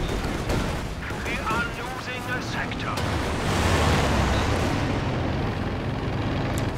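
An airstrike in the strategy game Company of Heroes 2 sets off a dense run of explosions and gunfire-like blasts that swell into a heavy rumble, with a commentator talking over the battle.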